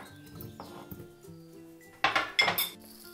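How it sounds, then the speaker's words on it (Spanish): Chopped potato tipped into the bowl of a Monsieur Cuisine food processor while making asparagus vichyssoise: a few faint clinks at first, then a short burst of loud, close clattering knocks against the bowl near the end. "A continuación agregamos la patata troceada"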